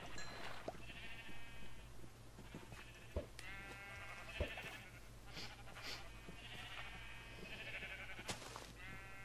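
Sheep in Minecraft bleat several times in short separate calls, moderately close, over a steady low background hum with no talking.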